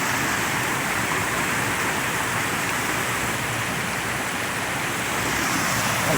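Creek water rushing steadily at Riacho do Lagedo, a rural swimming spot with natural pools after heavy flooding, a dense continuous roar close by with no voices.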